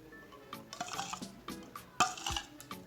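A spoon stirs a thick coffee-powder face pack mixture in a small bowl, giving soft scraping swirls and a few sharp clinks against the rim, close and quiet.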